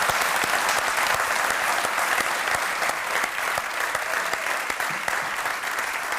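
A live audience applauds at a Portuguese music broadcast, a dense, sustained roar of clapping hands that stays steady from start to finish.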